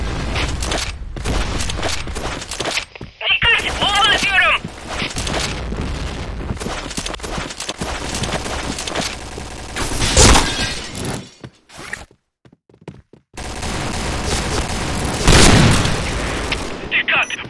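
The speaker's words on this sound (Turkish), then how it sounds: "Bomba atıyorum." Bomb blasts and bursts of gunfire in a team shooter video game, loud booms and crackling shots recurring throughout amid game sounds, with players talking over the action.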